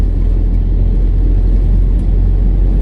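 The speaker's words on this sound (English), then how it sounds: "busy traffic." Busy road traffic passes through Glencoe in howling wind and rain, a loud, steady low rumble of vehicles that never lets up.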